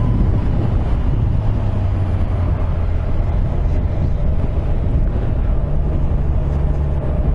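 A 2017 Kawasaki Z1000SX motorcycle pulls steadily on the road as the throttle rolls on, a loud, continuous engine drone with a low tone that climbs gently, wrapped in constant wind rush.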